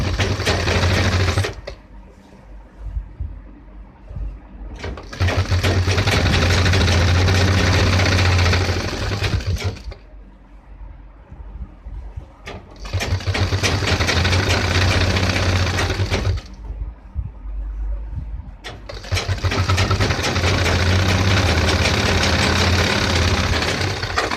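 Sewing machine stitching a waistband belt onto men's formal trousers, running in three long steady bursts with quieter pauses between, a low motor hum under rapid needle rhythm.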